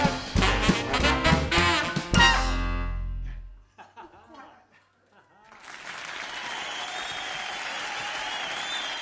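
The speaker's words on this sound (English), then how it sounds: "Yes, we had applause. Yes, we got the studio audience again, as you can hear." Studio audience applause follows a jive music number, the band's final chords cutting off before a steady, moderately loud wash of clapping rises after a brief lull and continues evenly.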